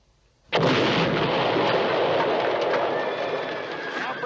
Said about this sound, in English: Now shoot it, but don't miss by 2 inches.